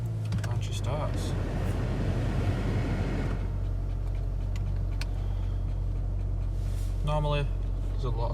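Saab 9-3 engine cranking and catching, then settling into a low, steady rumbling idle close by, with someone talking over it.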